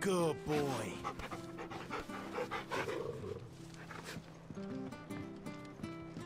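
Dog panting in Final Fantasy 16, quick rhythmic breaths close by with a brief whimper, running under a voice speaking and game music.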